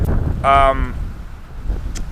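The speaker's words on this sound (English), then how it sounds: "Now it is quite windy out here today." Wind buffets the microphone with a low, rumbling roar, and a brief voice cuts in partway through.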